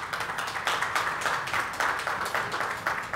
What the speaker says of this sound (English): could we give a round of applause as our distinguished guests take their seats on the dais?